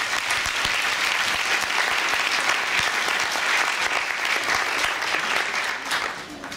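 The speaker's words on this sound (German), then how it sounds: "Das ist auch mal ein kleiner Applaus wert." A room full of people applauds during a winter fan meeting fireside chat, producing a loud, dense burst of clapping that holds steady and then tapers off slightly at the end.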